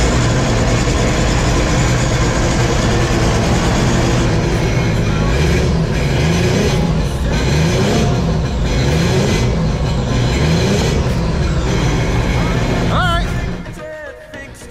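Engine of a 2011 SeaDoo RXT 260 jet ski, fitted with a new throttle body after a rebuild, runs loud and steady at close range for most of the time before dropping away at the end.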